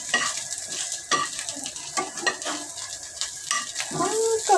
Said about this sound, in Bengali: মরিচ ভেজে দিচ্ছি।